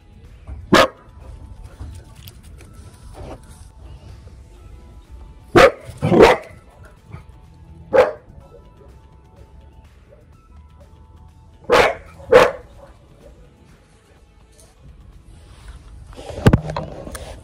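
Several dogs bark outdoors in short, sharp bursts spaced across the stretch, some single and some doubled, at moderate distance over a quiet background.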